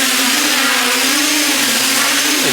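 Drone motors on a NAZA flight controller oscillating at very high speed under throttle, giving a loud, steady high-pitched whine with a buzzing tone that wavers slightly near the end.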